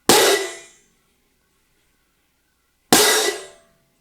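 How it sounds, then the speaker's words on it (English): Two crash cymbal hits, each choked against the player's body so the bright wash cuts off within about half a second, separated by a few seconds of silence. "if we have a crash and you bring both plates into you, that sound is going to stop pretty quick"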